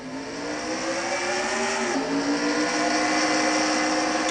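Stock cars in a national-series race at New Hampshire roar under power on a green-flag restart, a dense, sustained engine drone with rising harmonic pitch that holds loud and steady throughout.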